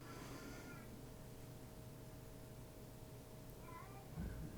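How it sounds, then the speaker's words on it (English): A pet cat meows indoors, two faint, short meows, one at the start and another near the end, over a quiet steady hum. "That's my cat."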